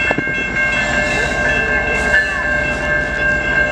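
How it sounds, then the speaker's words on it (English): A CN mixed freight train passes a railroad crossing at Harrison Avenue in Trenton, Michigan, its horn sounding sustained tones over the close, loud rumble and rhythmic clatter of rolling cars. "Yep, he's blowing his horn."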